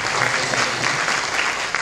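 Seminar audience applauding at an Indonesian book launch on Reyog Ponorogo performance, a continuous loud wash of many hands clapping with no break.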